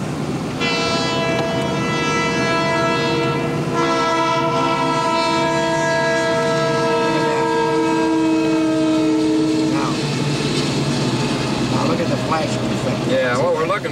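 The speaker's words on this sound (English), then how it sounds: "And this is the end of the train" A train rumbles past close by at a grade crossing with a long blaring horn, wheels clattering underneath, and a voice speaking over the noise.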